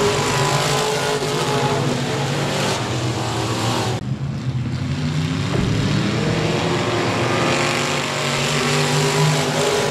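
Race cars at 67 Speedway of Texarkana roar past loud and near in a continuous engine howl, with a brief dip around the middle before the roar returns.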